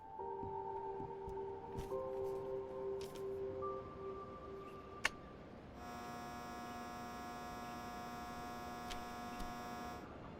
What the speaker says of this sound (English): Investigators test another actuator to see if it matches the humming sound heard on the CVR